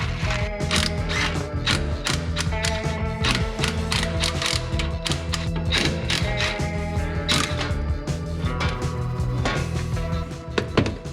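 Rapid ratcheting clicks and metallic mechanism sounds while removing the flywheel during a T5 transmission swap on a Mustang, with dense irregular bursts of clicking close by and no talking.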